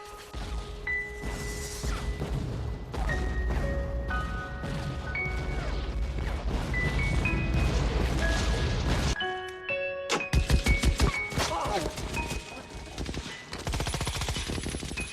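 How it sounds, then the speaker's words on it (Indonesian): Close-range gunfire in a World War II American–Japanese battle scene from a Call of Duty war game, with dense rapid bursts and sharp repeated cracks, loud and continuous, plus tonal beeps and a heavy volley near the end. "Terjadilah baku tembak jarak dekat."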